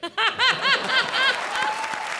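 Studio audience at a comedy awards show claps and laughs together, a short loud burst of applause mixed with chuckles.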